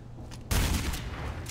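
One loud, close shot from the most powerful sniper rifle in the Black Squad video game, a sudden heavy crack with a booming low end that decays slowly into lingering echo.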